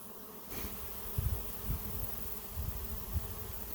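A honey bee swarm hums as a faint, continuous buzz outdoors, with soft low rumbles and bumps under the drone and no voices.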